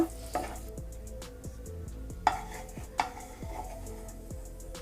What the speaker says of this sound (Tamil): இந்த மாதிரி நல்லா நெய்யில் போட்டு வறுத்து எடுத்துட்டு